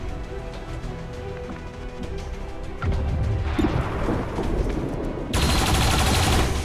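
A turret fires on an enemy in XCOM 2, a dense, loud run of rapid gunfire and crashing impacts that grows heavier and ends in a harsh, sustained roar.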